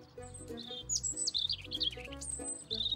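Cartoon birds chirp and tweet in quick, bright, repeated calls over a steady bouncy musical score, fairly close and clear with no talking.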